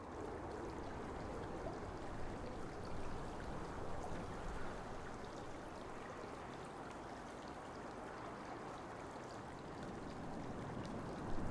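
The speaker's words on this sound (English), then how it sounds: "That water sounds good." A steady, close wash of flowing water, like a stream or trickle, running continuously without pause and with no voices over it.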